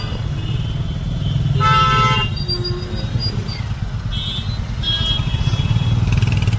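Busy road traffic in Prayagraj rumbles steadily close by, with a motorcycle engine buzzing past and several short vehicle horn toots sounding over the din.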